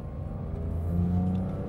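A Porsche 991 GT3 with PDK gearbox and sports exhaust, gears shifted manually, driven fast, gives a steady, throaty engine drone with rising harmonic tones, heard from inside the car and unbroken by talk.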